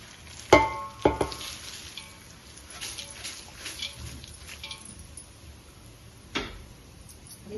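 A tempering of spices sizzles in a pan for atukula chuduva, a flattened-rice snack, with a few sharp clanks and stirring knocks near the start and another later over a steady soft crackle.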